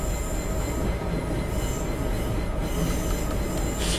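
A Class 150/2 diesel multiple unit in Train Simulator 2015 runs steadily between Liverpool and Manchester, a continuous close rumble of wheels and engine with faint squeal over the track, no voices.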